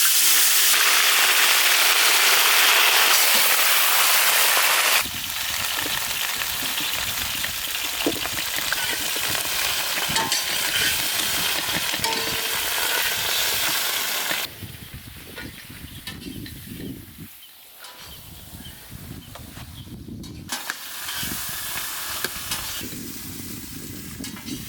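Brinjal sautéing in oil in a pan, a loud continuous sizzle with stirring scrapes throughout, easing somewhat toward the end, with no voices.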